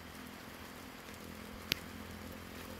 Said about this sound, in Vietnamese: Trời thì bắt đầu mưa.